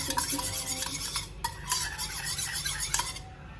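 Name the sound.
mixing baked sushi mixture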